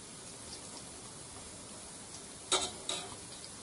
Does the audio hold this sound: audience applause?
no